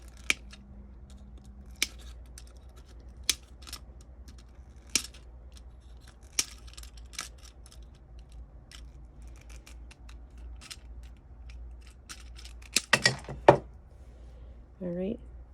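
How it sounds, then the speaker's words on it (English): Snips cut copper wires loose from a bracelet jig, sharp isolated clicks spaced every second or two against a quiet background, with a cluster of snips near the end. "You're going to cut the wires loose from the jig."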